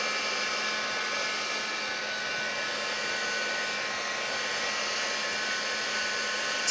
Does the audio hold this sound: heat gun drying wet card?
yes